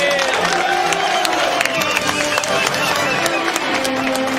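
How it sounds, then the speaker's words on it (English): Stadium crowd at an Indianapolis NFL game in the 1999 season, a loud continuous roar of many voices with scattered shouts, steady and fairly close throughout, no break in the din. "This crowd here in Indianapolis is in absolute shock."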